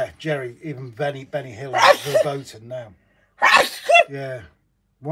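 A sharp, sudden sneeze bursts out during casual conversation, followed a moment later by a second forceful burst, with people talking before and after.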